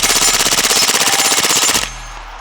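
A Springfield Kuna fires full auto with a Super Safe and the OEM 3 Plus magazine, a fast and even burst of loud shots that stops abruptly after almost two seconds.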